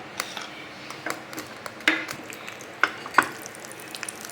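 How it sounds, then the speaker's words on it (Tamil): Cashews frying in ghee in a small ladle give a soft, steady sizzle and bubbling, broken by a few sharp clinks and taps of a spoon against the metal. "நல்லா கோல்டன் ப்ரௌன் ஆகிற வரைக்கும் நல்லா வறுத்து எடுத்துக்கலாம்"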